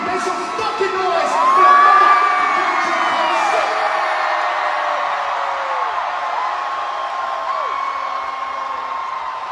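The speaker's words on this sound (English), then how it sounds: "Hey, OKC, make some fucking noise." A large concert crowd in OKC cheers, whoops and yells continuously, swelling loudest near the start and then holding a steady roar, with scattered high shouts over the dense wash of noise.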